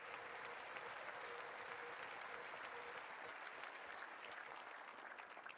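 A tennis crowd at the Qatar Open gives a standing ovation, with dense, sustained applause from a large audience at steady loudness, gradually easing slightly toward the end.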